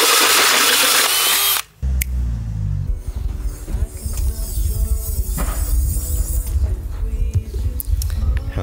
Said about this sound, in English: So I'm going to cut a hole through a baking tray